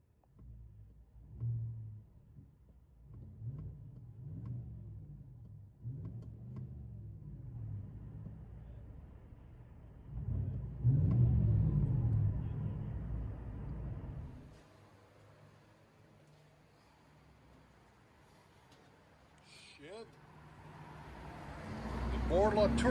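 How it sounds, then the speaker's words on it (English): 2021 Chevy Silverado Z71 with a Borla Touring cat-back dual exhaust, heard from inside the cab: a low muffled engine rumble that swells with a few throttle rises, faint and rounded, with someone talking over parts of it. "Let you guys hear on the inside."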